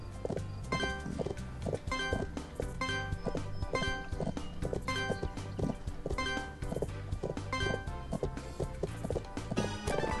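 Horse hoofbeats in the Bibi & Tina at the Horse Farm video game, a rapid, regular clip-clop of a galloping horse over a steady game music bed.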